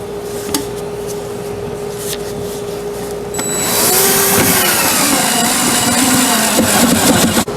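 A power drill drives pocket screws into the bottom panels of a wooden computer desk hutch, a steady whirring drone that starts about halfway through and runs loud and close until the end, with no talking.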